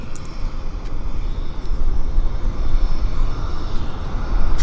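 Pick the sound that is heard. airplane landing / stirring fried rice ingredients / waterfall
airplane landing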